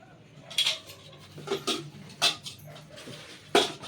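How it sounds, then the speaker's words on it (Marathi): A pressure cooker is handled in a kitchen, giving several separate metallic clanks and knocks spaced irregularly over a few seconds, fairly close and moderately loud. "हे आहे कुकर"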